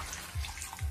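Water pours into a cooking pot of moringa noodle soup in a short, steady splashing stream with a couple of low gurgles, close and fairly quiet.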